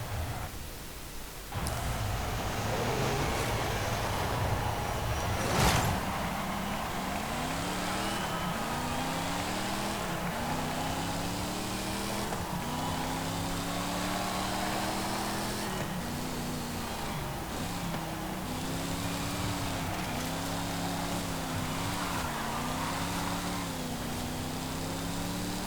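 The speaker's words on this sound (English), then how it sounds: "So yeah, it's a really rather good sounding engine, to be honest." Pontiac car engine in Forza Horizon 5 revving up through repeated gear changes, each pull rising in pitch then dropping at the shift, loud and steady with no talking.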